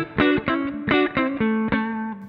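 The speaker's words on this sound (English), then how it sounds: "Putting some reverb on there." A clean electric guitar amp tone modeled in TONEX with reverb added, playing a few loud chords in a quick rhythm, each struck chord ringing with harmonic sustain.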